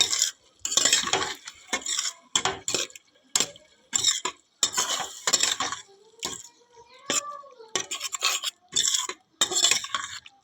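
Soaked moong and masoor dal stirred in a pan, heard as repeated rhythmic bursts of scraping and rattling from a spoon against the metal, separated by short quiet gaps, close and clear with no voices.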